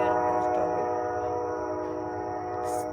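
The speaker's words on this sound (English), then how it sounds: "train's coming." A train rumbles past close by, with a steady loud horn-like drone over heavy low rumble throughout.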